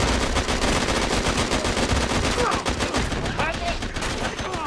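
Loud, dense automatic gunfire rattles almost nonstop in a multiplayer shooter game match, bursts overlapping closely throughout.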